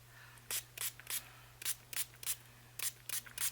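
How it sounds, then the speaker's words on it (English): A spray bottle fires a series of short, sharp misting spritzes of water onto fabric scrunchie flowers, about a dozen quick bursts in uneven clusters, close by over a low steady hum. "I'm going to spray both sides of these"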